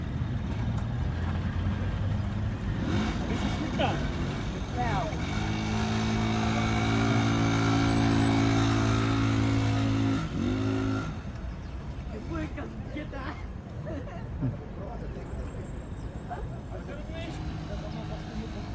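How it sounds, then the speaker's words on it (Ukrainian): A small vehicle's engine is held at full throttle yet fails to move off, giving a loud, steady, droning rev for several seconds before dropping back to a lower idle, with people talking throughout. "Я на повну даю газу, вона не їде."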